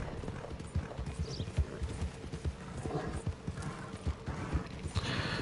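Horse hooves clip-clop in a steady trotting rhythm in Red Dead Online, close and fairly loud, with a brief whinny and no talking.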